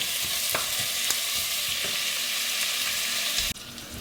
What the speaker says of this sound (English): So fry this onion until they get a little bit brown, like a golden brown.